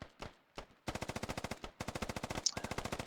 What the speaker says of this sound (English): That hab is getting just railed with gunfire.